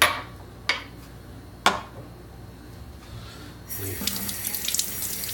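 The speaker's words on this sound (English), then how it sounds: "Wash my hands before I keep touching more stuff here real quick." Hands washed under a running sink tap, several sharp clacks up front, then water gushes on and splashes steadily close by.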